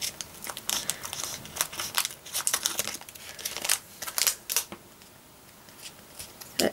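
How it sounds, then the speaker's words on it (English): Scissors snip through crinkly plastic packaging on a comic book order in a string of sharp, irregular cuts, with rustling between them and short pauses. "now we can snip it"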